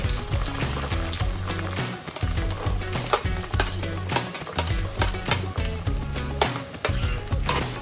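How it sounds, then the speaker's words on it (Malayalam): Onions sizzle and crackle in hot oil in a pan for a Kerala-style prawn curry, stirred with occasional scrapes and clinks, close and steady with no talking. "അപ്പോൾ ഈ ഉള്ളി ഒന്ന് ജസ്റ്റ് ബ്രൗൺ കളർ ആകട്ടെ."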